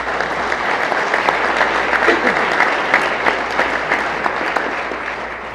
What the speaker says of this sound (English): Let's give these people a big round of applause.